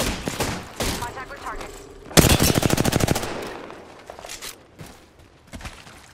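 Rapid automatic gunfire in Apex Legends, a loud burst of evenly spaced shots in the middle after scattered earlier shots, with more distant fire trailing off afterward.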